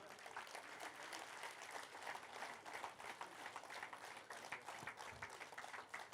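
An audience at a spiritual gathering applauds, a dense, distant-sounding wash of many hands clapping continuously throughout, with faint crowd noise underneath.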